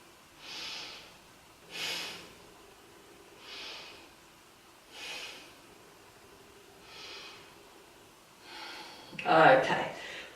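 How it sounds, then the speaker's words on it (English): Slow, deliberate breaths are heard during a beginner yoga pose, about five even inhale-exhale swells spaced a couple of seconds apart, close and clear, then a louder, rougher breath at the end. "Take 3 breaths here."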